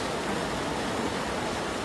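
Loud, continuous rushing water roars close by, a dense, steady wash of noise like a fast-flowing current.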